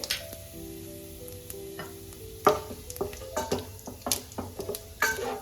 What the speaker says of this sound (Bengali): হালকা ফ্রাই করে নিলাম গোটা জিরেকে।